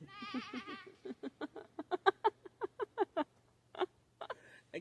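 A person imitates a sheep or goat with a wavering bleat, then a quick run of short, clipped bleats, close and fairly loud against a quiet outdoor background with a faint steady hum.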